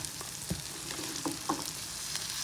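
Green chilies frying in an oily masala, a steady broadband sizzle with a few soft stirring knocks and scrapes, close and moderately loud, with no voices.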